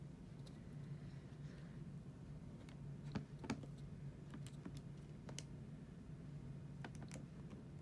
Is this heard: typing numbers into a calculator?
yes